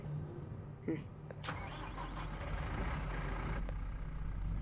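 Front loader tractor engine in Farming Simulator 25, a low steady rumble with a mechanical clunk and a hiss-like burst partway through, the engine droning on at moderate level throughout.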